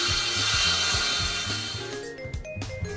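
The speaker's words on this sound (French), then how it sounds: "délignez la lame à la dimension souhaitée." A power saw rips a laminate floor board to width, a loud sustained cutting whine with a rhythmic pulsing underneath, then cutting off into brief clatter at the end.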